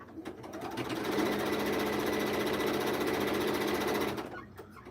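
A sewing machine runs steadily while stitching scrappy quilt blocks for a holiday quilt, a continuous close motor whir that swells in after a brief start and cuts off near the end, with no talking.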